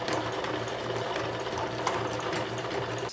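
Sewing machine stitching the side seams of a fabric tote bag, a fast rhythmic chatter of needle strokes running close and steady, with no speech.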